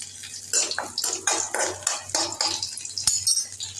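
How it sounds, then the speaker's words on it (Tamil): Garlic cloves are stirred and sautéed in a pan, with a utensil repeatedly clinking and scraping against the metal over a light sizzle, in steady close strokes. "பூண்டு பல் நான் போடுறேன்."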